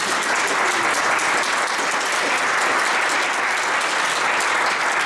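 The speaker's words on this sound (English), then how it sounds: "So give yourself a round of applause." Sustained, dense applause from an audience at a natural farming talk, a steady loud wash of many hands clapping with no pauses or voices throughout.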